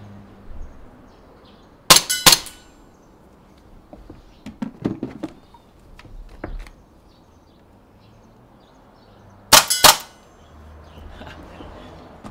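An M17 BB pistol fires double taps: two sharp cracks close together, a scatter of lighter clicks and knocks, then another tight pair of loud shots later on.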